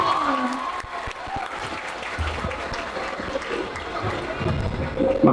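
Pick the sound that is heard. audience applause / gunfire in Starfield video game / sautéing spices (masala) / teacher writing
audience applause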